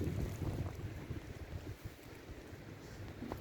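Gusty icy wind buffets the microphone beside a canal on a cold, sunny day, a steady low roar with rougher bursts early on and no talking.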